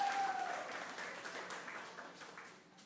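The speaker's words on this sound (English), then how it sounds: "Another round of applause." Audience applause at a story night, a steady wash of many hands clapping from the start and slowly tapering off toward the end.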